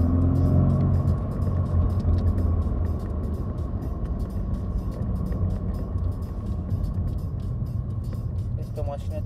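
Ford Mustang Shelby GT500 kit car on its unmodified stock exhaust idles with a low, steady rumble, close by and constant.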